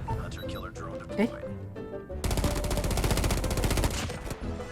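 Rapid automatic gunfire in Call of Duty Mobile, a dense sustained burst of shots following scattered game sounds, loud and close.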